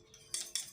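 Honey and egg yolk mixed with a spoon in a bowl: two quick faint metallic clinks of the spoon against the bowl, close and brief with no talk.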